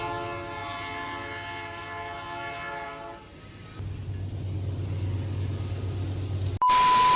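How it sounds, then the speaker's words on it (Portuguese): A train passes close by, opening with a loud sustained multi-tone horn blast, then a rising low rumble of the cars rolling past, ending in an abrupt loud burst of noise. "Ele vai passar agora, no momento exato."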